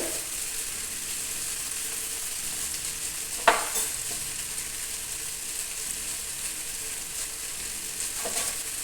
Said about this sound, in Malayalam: നന്നായിട്ടൊന്ന് വഴറ്റിയെടുക്കാം